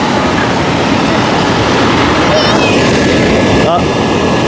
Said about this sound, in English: All right, turn the switch on. And then let it start blowing up.